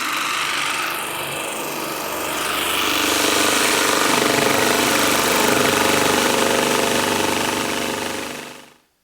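A power tool cuts holes into a server rack cabinet, a loud steady grinding drone that builds after a few seconds, holds at full strength, then stops abruptly at the end.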